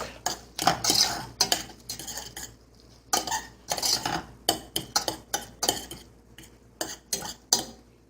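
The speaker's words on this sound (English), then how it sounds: "instead of a spatula, I'm gonna use my fork" Close, repeated metallic clinks and scrapes as a fork stirs food in a cooking pan, coming in irregular bursts with short pauses between strokes.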